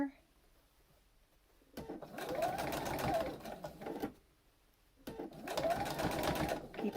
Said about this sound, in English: I'm going to sew a 1/4 of an inch seam